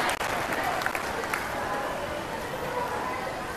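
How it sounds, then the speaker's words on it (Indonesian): A crowd at a reading and writing workshop breaks into sustained applause, dense and steady clapping that fills the room for several seconds. "Tepuk tangan untuk Nestle."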